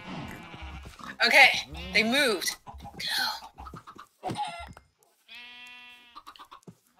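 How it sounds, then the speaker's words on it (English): Sheep bleat in Minecraft, several short wavering cries mixed among game animal sounds, interspersed with a person talking nearby. "I'm luring cows now and sheep."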